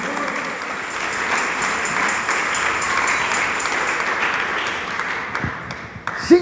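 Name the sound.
congregation applause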